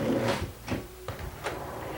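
A drawer in a basement storage cabinet being pulled and pushed, giving a few soft sliding rumbles and a quiet thump close by, with no talking.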